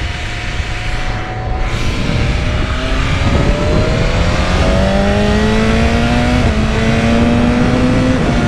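A 1000cc sport motorcycle engine on a race track revs upward through rising gear changes, a steady loud drone climbing in pitch several times, heard up close with wind noise behind it.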